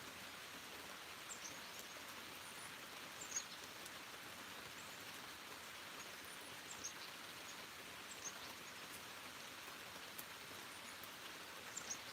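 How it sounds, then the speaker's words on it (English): Gentle rain patters steadily outdoors, a quiet continuous hiss with faint drip taps and no talking. "The rain is nice, eh?"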